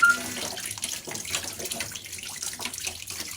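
Wheat flour dough being washed under a running tap, a steady faucet stream splashing continuously at close range with shifting gurgles as the dough is worked in the water, no voices.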